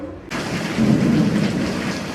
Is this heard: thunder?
yes